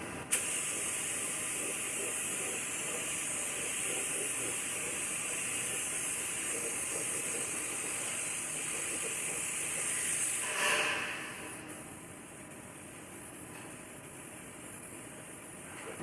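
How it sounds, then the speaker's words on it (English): Epoxy primer is sprayed onto a Ford F150 truck frame, a steady airy hiss that holds continuously for about ten seconds. It then swells briefly and drops to a quieter hiss. "I'm going to coat all of this with a coat of epoxy primer."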